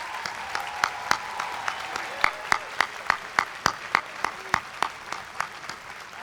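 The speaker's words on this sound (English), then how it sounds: "So please join me in honoring your loved ones with a big round of applause for all that they have done to make this day possible for you." A commencement audience at a university law school graduation claps in a sustained round of applause, with a steady rhythm of distinct, sharp claps standing out over the broader crowd noise and tapering toward the end.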